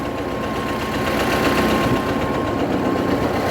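Old T-40AM wheeled tractor ploughing virgin ground with a Kverneland plough, its engine droning steadily and loudly at close range with a constant low rumble and slight knock throughout, no voices.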